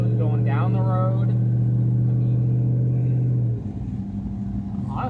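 Chevrolet C30 1-ton truck cruising down the road, a steady loud low engine drone and road rumble that drops in pitch near the end, with someone talking over it.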